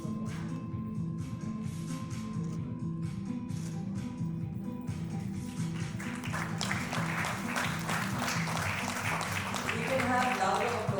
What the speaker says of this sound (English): Have louder applause actually.